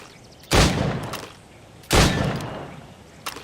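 Gunfire in the video game Assassin's Creed Rogue: two sharp, loud shots about a second and a half apart, each trailing off in a short echo, with a faint third click at the end.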